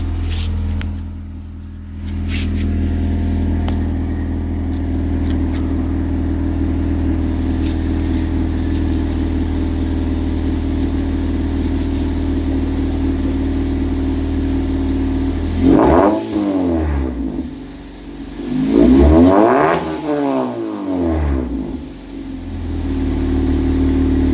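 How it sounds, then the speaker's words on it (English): A 2015 Honda Civic LX with a Borla catback, Magnaflow silencer and no catalytic converters idles with a steady, droning exhaust rumble, then gets two sharp revs near the end, the second longer and climbing higher before dropping back. "Right now it has a 225 exhaust system with Borla catback modified and Magnaflow Silencer."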